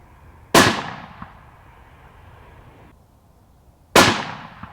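Two sharp, loud rifle shots from a Haenel Jaeger 10 fired outdoors, about three and a half seconds apart, each with a decaying echo tail.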